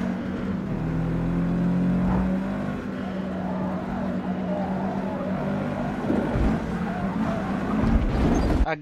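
A race car with a 497 performance-point rating roars continuously through a championship race in Forza Motorsport on PC, its engine loud and steady with shifting revs and tire noise swelling near the end.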